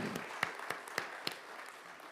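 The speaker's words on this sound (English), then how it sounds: "Yes, let's give a hand for our Harvest Festival." A church congregation at a Sunday service gives a few scattered, faint hand claps for an upcoming Harvest Festival, the sparse claps spaced out against a quiet room.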